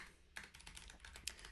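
Keystrokes on a computer keyboard as a note is typed: a quick, irregular run of soft clicks, close and quiet, with no talking.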